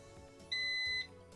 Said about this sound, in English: Why the beeping?